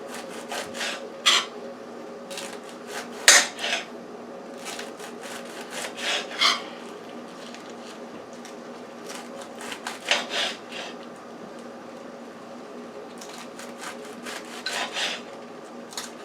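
Collard greens sliced thin with a knife for a salad, a series of short scraping, rasping strokes against a board, some sharper and louder, spaced irregularly over a quiet background.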